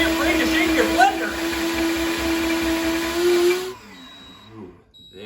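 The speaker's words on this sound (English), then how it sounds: "Don't be afraid to shake your blender." A blender runs at a steady high whine while being shaken, with a few bumps and rattles in the motor tone before it switches off, leaving a quiet room and soft handling noises.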